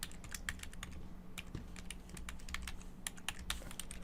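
Rapid, quiet clicking of fingers typing on a computer keyboard, an uneven steady patter of keystrokes over faint low hum, with no speech.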